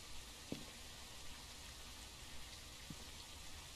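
Steady rain falls in the Phasmophobia video game, a soft, even hiss of raindrops with a couple of faint clicks, quiet and continuous with no talking.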